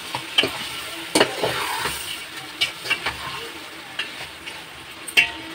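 Fish pieces frying in masala for an old-style mango fish curry, a close sizzling hiss broken by sharp scraping and clinking spoon strokes at irregular intervals.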